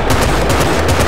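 Rapid automatic gunfire in Battlefield Bad Company 2, a loud close burst of quick repeated shots firing at a small building, with no talking.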